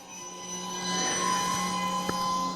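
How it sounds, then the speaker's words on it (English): A train slowing to a stop close by beside an empty parking lot, with steady rumbling rolling noise and high, drawn-out metallic squeals from the wheels, fairly loud and without voices. "with a train coming to a stop right next to me"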